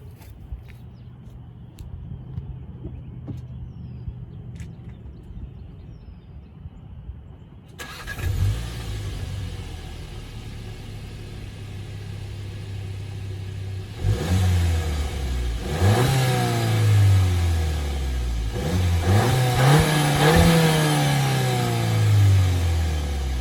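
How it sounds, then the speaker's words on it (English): A factory-exhaust VW Jetta GLI MK7 engine cranks and fires after a quiet stretch, settles into a steady idle, then is revved several times, each rise and fall clear and close. "So I'm gonna start it up and give it a couple of revs and see if you could hear anything."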